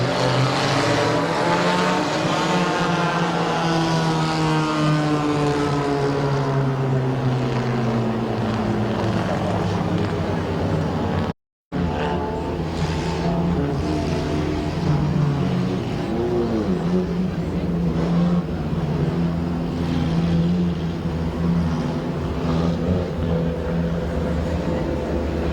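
Race cars roaring around the Midvale Speedway oval, loud engines rising and falling in pitch as cars pass close by, steady and continuous with a brief cut midway.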